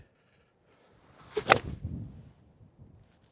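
A single sharp TaylorMade club strike on a golf ball from the rough rings out once outdoors, followed by a brief fading swish, otherwise quiet.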